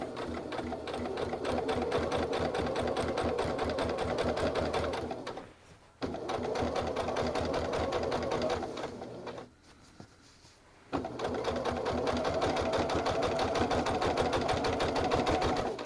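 A sewing machine stitches a quilt with a straight-stitch throat plate, running in a fast, steady, close mechanical whir that stops briefly twice and then resumes.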